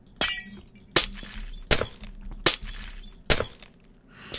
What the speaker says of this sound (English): So when you put down glass, it sounds like you're actually breaking glass.